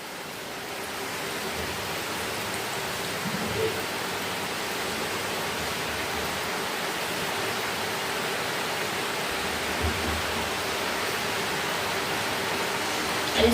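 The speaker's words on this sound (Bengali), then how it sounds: "আবার জোরে জল এসেছে।" Heavy rain pouring down steadily, a dense continuous hiss that stays constant throughout with no breaks.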